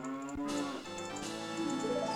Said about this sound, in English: in this house there's a cow